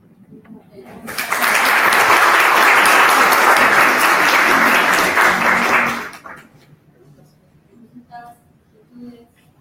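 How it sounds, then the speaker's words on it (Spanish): Dense applause from a lecture audience at a talk on clinical communication swells quickly, holds loud and steady for several seconds, then cuts off into quiet room sound and a few scattered voices. "¿Más aplausos?"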